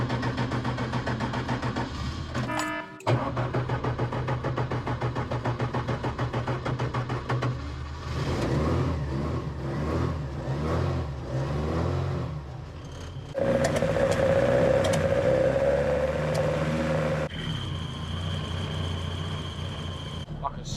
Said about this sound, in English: Under load, it just won't rev up at all, and now it won't even idle properly.